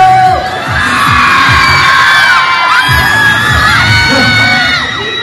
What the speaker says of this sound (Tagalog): Girls, sigaw para sa BGYO!